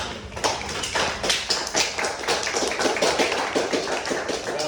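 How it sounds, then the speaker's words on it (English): A round of applause fills a meeting room, many hands clapping close and steady throughout with a dense, uneven patter and no talking. "Round of applause for these guys, honestly."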